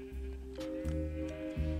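Sheep bleat in the video game Minecraft, a few short, steady-pitched cries that follow one another closely over a low background hum.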